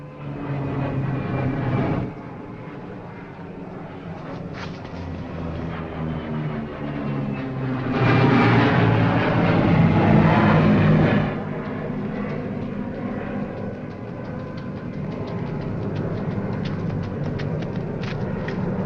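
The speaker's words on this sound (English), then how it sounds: "Holmes, he's coming in for a landing." Propeller airplane from the 1940s droning overhead, its engine rumble rising to a loud peak as it passes close and then easing into a steady background drone.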